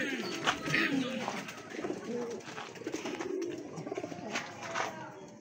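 Breeder pigeons coo softly in a low, rolling murmur that repeats through the stretch, with brief rustles and small clicks scattered around it at close range.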